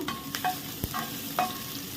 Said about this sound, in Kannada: ಜಿಂಜರ್ ಹಾಗೊಂದು ಮೂರು ಗ್ರೀನ್ ಚಿಲ್ಲಿಯನ್ನು ತೊಗೊಂಡಿದ್ದೇನೆ ಎಲ್ಲವನ್ನು ಒಟ್ಟಿಗೆ ಹಾಕುವ ಹಾಗೂ ಚೆನ್ನಾಗಿ ಫ್ರೈ ಮಾಡಬೇಕು